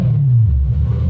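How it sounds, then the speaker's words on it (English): From inside the cabin, a supercharged car engine tuned on E85 fuel gives a short, loud rev, a deep rumbling swell that rises and drops within about a second. "give it some baby revs and see what it sounds like"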